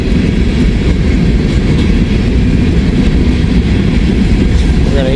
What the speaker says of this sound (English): Looks like we got an empty grain train